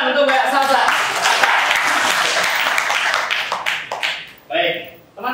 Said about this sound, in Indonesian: tepuk tangan untuk Mbak Salsa